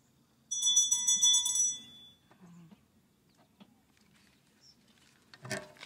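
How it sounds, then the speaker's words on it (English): A bell rung to close a moment of silence at an outdoor park gathering rings out clearly once, its bright harmonic tone decaying over about a second and a half into quiet with faint outdoor sounds. "and then ring the bell again at the end."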